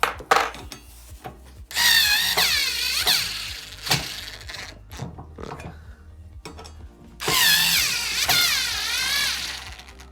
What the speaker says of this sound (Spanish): Ahora puedes apretarlo con la llave Allen o con el atornillador eléctrico.